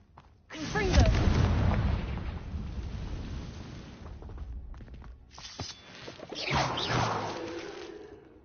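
A Confringo fire spell bursts in Hogwarts Legacy with a deep whooshing blast, rumbling and then fading, followed by a second roaring burst, with voices mixed in.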